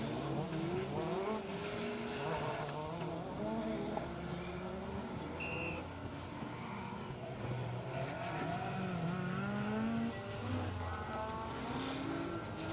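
A Renault Clio rally car drives hard through a circuit rally stage, its engine rising and falling through gear changes as it revs loudly and continuously close by.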